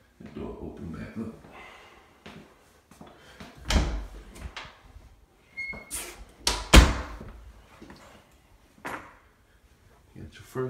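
A door is opened back up in a rental house in Lithonia, Georgia, on the main floor near a full bathroom, giving a few sharp knocks and thumps among quieter handling noises, with someone talking throughout.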